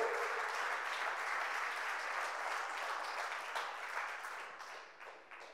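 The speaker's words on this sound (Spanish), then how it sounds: "If you're here, give a hand to the Lord." A church congregation at a Spanish-language prophetic service gives a dense, steady round of applause that stays strong for several seconds, then gradually thins and fades out at the end.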